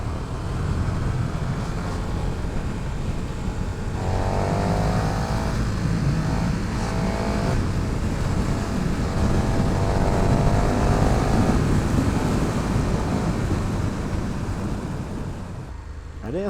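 A 2020 KTM 1290 Super Duke R rides on the road with a constant engine and wind roar, rising in pitch through two throttle pulls as the bike accelerates.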